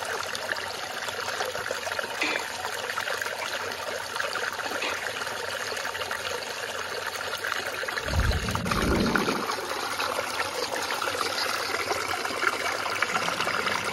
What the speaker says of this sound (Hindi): तो यहाँ पे आप देख पाओगे कि कैसे पानी जा रहा है।